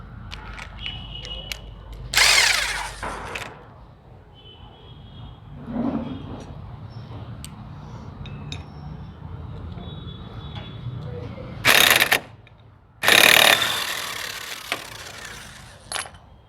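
An air impact gun removing nuts from a Yamaha FZ motorcycle clutch, several loud short rattling bursts separated by quiet gaps, with someone speaking in between.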